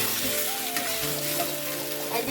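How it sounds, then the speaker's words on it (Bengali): Pointed gourd fries with spices in a pan, giving a steady close sizzle with faint stirring scrapes and a thin background tone. "এই যে মশলাগুলো সব কষিয়ে নিয়ে পটলগুলো দিয়ে দিয়েছি"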